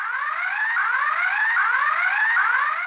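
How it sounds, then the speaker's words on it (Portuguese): A neighborhood security alarm siren, of the kind shared by a group of houses, repeats its rising electronic whoop in a steady cycle, continuous and fairly loud with no talking. "A nova arma é essa sirene."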